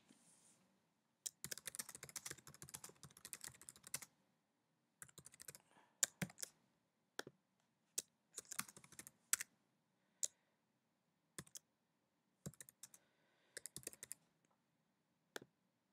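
Soft, close keystrokes on a computer keyboard come in quick irregular bursts separated by short silences, faint and without talk.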